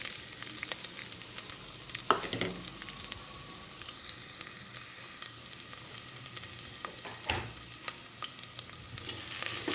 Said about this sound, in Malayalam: അത് നല്ലതുപോലെ ഫ്രൈ ആക്കി പൊരിയെടുക്കാം.